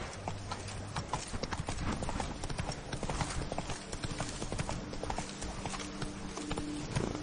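Horse hooves clip-clop in a steady, quick rhythm at close range, a continuous run of hoof strikes with no talking over them.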